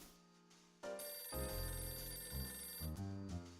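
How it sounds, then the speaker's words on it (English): A telephone rings in the video game Last Window, a bright electronic bell tone in repeated bursts, clear and alone with no talk. "It's my phone."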